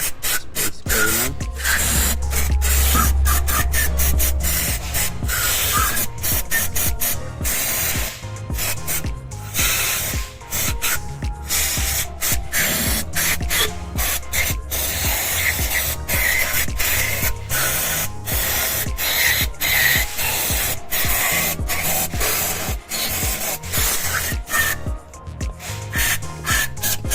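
Aerosol cleaner sprayed across a car's automatic transmission valve body on a DA17V 4X2 turbo van, heard as a long run of close, loud hissing bursts, some quick and choppy, others sustained, with no talking.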